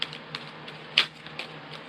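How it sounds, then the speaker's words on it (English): Tarot cards are shuffled by hand, producing soft, irregular clicks and taps with one sharper snap, quiet and close. "When you want me to stop shuffling the cards, then put a heart in the comments"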